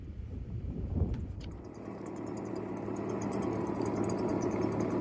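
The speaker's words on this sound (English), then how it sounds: "So I've got both these blowers fired up." Two leaf blowers running outdoors during a controlled burn, giving a steady, close engine drone that rises gradually in loudness, with no talk.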